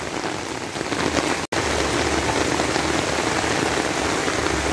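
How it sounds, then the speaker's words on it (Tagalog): Heavy rain pours steadily and loudly, a dense hiss of drops hammering surfaces with one split-second dropout near the start; no voices over it. "biglang lumakas ang ulan."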